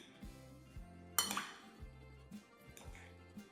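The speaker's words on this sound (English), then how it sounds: "Now gently toss everything together until the veggies are evenly coated with the dressing." Greek salad vegetables are tossed with dressing in a bowl, giving soft, quiet clinks and knocks of utensils against the dish in irregular bursts, with one brighter clink partway through.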